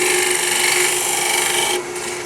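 A 3/8 inch round bar with a 12mm cutter hollows the inside of an ambrosia maple jar on the lathe, giving a steady, close scraping hiss that eases off near the end.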